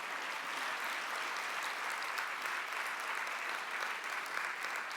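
Steady applause from an audience at a nursing leadership address, a dense even wash of many hands clapping throughout with no talk over it.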